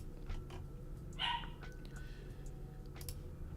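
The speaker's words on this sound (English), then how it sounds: "Apologize for my dog in the background." A dog barks once, a short sharp bark in the background, over a steady low indoor hum.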